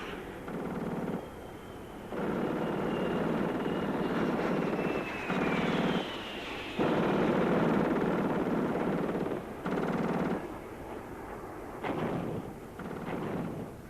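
Israeli fighter jets of the 1967 Six-Day War flying overhead, a loud sustained roar of jet engines swelling and fading in long passes, with a thin whine sliding across the sound.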